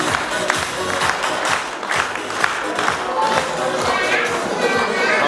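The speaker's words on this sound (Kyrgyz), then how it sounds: "Кол чабуулар." Guests applaud at a Kyrgyz bride send-off celebration. The clapping is dense and sustained, a steady wash of many hands with a few louder individual claps and some voices mixed in.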